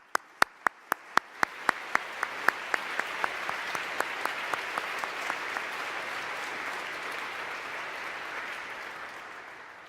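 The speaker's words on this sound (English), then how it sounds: "Please join me in applauding these university leaders." Audience applause at a university graduate and professional school convocation, starting with a few sharp, evenly spaced claps before the crowd joins in and swells into steady, moderately loud clapping that fades gradually.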